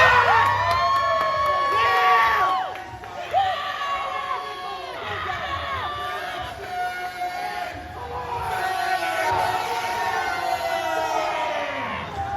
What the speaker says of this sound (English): As we hear the crowd erupt for the Salisbury Psycho, Jackson Sabre